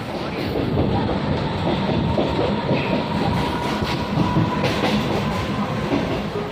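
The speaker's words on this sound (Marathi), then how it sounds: "ट्रेन मध्ये चढलेलं आहे आणि आपला प्रवास सुरू झालेला आहे उल्हासनगर ते दादरचा" A Mumbai local train runs from Ulhasnagar toward Dadar, a steady loud rumble of carriages with rhythmic rail clatter and a faint wheel squeal, heard from inside the coach without talk.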